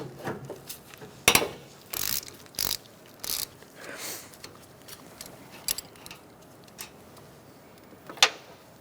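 Sharp metallic clicks and short ratcheting bursts from a ratchet loosening condenser line bolts on a 2004-2009 Mazda 3, scattered irregularly over quiet garage background.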